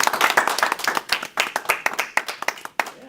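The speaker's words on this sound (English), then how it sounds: "how about a warm Augie round of applause for Zach?" A small group applauds a presenter after a talk, with close, distinct handclaps in an uneven rhythm that thins toward the end, and no talking over it.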